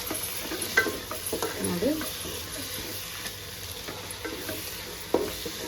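Tomatoes and turmeric frying in a pan for a green vegetable pulao, with a soft steady sizzle and scattered scrapes and clinks of stirring, plus a brief spoken word.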